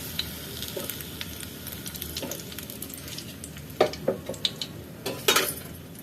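Bitter gourd frying in a pan for a stuffed kakarakaya curry, giving a steady low sizzle broken by a few sharp clinks of a utensil against the pan.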